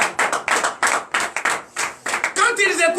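Church congregation clapping in acclamation for Jesus during a night deliverance and prophecy service, loud rhythmic group claps in quick bursts with a few shouted voices near the end.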